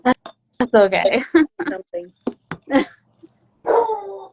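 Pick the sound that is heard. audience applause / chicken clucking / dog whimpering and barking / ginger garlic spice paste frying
dog whimpering and barking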